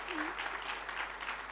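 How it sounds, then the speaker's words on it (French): A hall audience at a digital-programme launch ceremony in Yaoundé applauds in a steady, even wash of clapping, moderately quiet and continuous, with a brief murmur of voices underneath. "Est-ce qu'on peut applaudir encore une fois de plus pour elle? Mais cette fois-ci, les vrais applaudissements."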